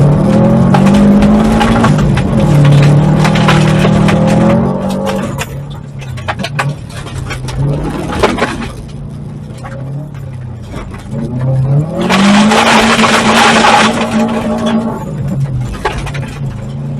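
Rally car on a timed 30-second RallyX run on all-season tires, engine loud and close as it revs hard, shifts and accelerates, easing off through a quieter middle stretch before surging again.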